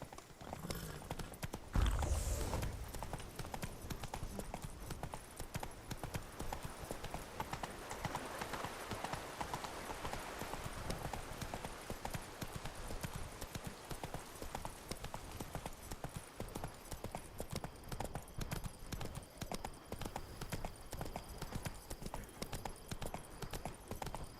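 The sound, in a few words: horse hooves clip-clopping in The Witcher 3 video game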